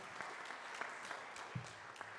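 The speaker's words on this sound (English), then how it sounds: "A round of applause for our panelists." An audience claps steadily for panelists at a university career fair, a dense, even patter of many hands sustained throughout with no other voices on top.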